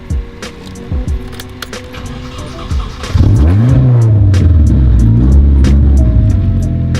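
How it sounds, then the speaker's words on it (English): A hurricane-damaged car's starter cranks with clicks and whirs for a few seconds before the engine catches and settles into a loud, steady close idle. "Let's see if we can crank it over, start this bitch up."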